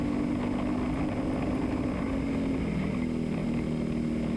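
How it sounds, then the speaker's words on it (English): An LO206 go-kart engine drones steadily and close at high revs during a Legends final race. The buzzing whine is unbroken and slightly wavering, with no talk. "I was busy looking at the go-kart in front of me"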